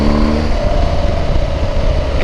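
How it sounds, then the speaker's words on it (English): A loud BMW R1250GSA or Honda Africa Twin motorcycle engine close by, a deep throaty rumble held at high revs with slight fluctuations, no voices. "Also the engine sound when you rev it up,"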